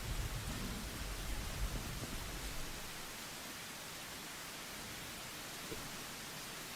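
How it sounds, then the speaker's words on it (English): Steady rain hisses as ambience in Dark Souls 2, a dense even wash of noise that is heavier for the first few seconds and then settles into a softer continuous patter with no voices. "That's actually quite a nice rain sound."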